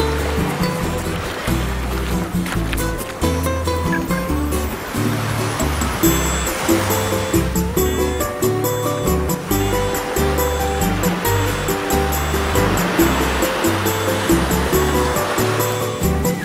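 Ocean waves break on a beach in a steady, dense wash of surf that never lets up, loud and near, with a low rumble under the hiss and no talk.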